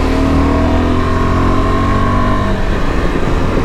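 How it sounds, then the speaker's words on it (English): A KTM 390 Adventure motorcycle engine revs loud and close, a steady throaty drone with rising tones that eases into a rougher, uneven note toward the end, with no talk over it. "Grunt of the 390."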